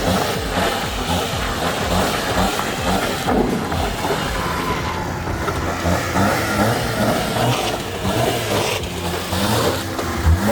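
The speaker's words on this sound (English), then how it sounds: "He's gonna be moving the car because I cannot move it." Imported Japanese manual car with its engine revving as it is moved, a steady medium engine note running throughout at close range.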